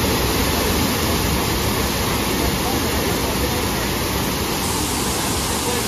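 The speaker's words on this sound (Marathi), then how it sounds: "वरतून जो पाणी येतो तो खाली लोंडा जातोय पुरा." Savdhav waterfall at Kankavli, Sindhudurg, a steep cascade plunging into a pool, roars as a loud, steady, broadband rush of falling water with no break.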